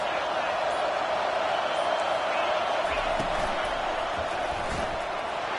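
A roaring stadium crowd in the College Football 25 video game forms a dense, steady wash of noise, with a few faint thumps underneath.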